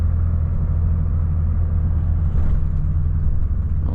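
A Volvo FH 540 truck's diesel engine rumbles on after a downshift, a steady, moderately loud low drone from inside the cab that eases slightly as the truck slows, with no talking.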